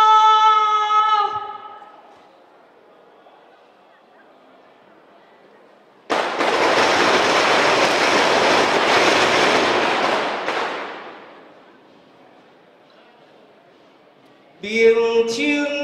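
A long string of firecrackers crackles in a dense, loud burst for about five seconds during a temple ceremony at the Luermen Holy Mother Temple in Tainan, with spoken announcements before and after.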